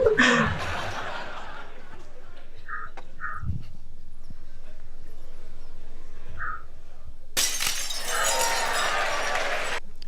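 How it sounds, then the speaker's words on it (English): Glass breaks during a physics lecture demonstration at MIT, a sudden bright shattering crash late in the clip. Earlier come faint clinks and murmuring in a quiet hall. "Students love it when the glass breaks."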